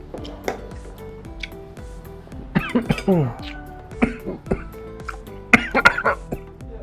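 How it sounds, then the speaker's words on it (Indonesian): A person coughs repeatedly in uneven bursts while eating noodles, some harsh and throaty, with short pauses and faint background clinking between fits. "Sampai batuk."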